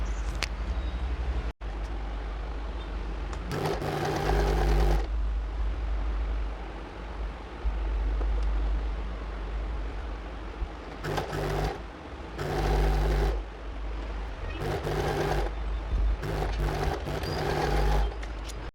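A sewing machine stitches the front panel of a blouse in fabric, running in several separate bursts of steady mechanical whirring with pauses between them, close and fairly loud, with no talking.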